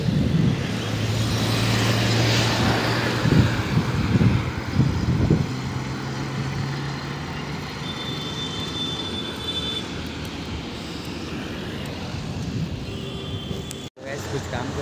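A motorcycle is ridden in third gear on a road. A steady engine drone is mixed with heavy wind rush, and someone talks over it for part of the ride.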